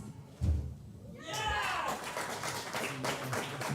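A crowd claps at a European Touch Cup match between England Storm and Scotland after a try, a burst of outdoor applause following a single thump, with voices talking over it.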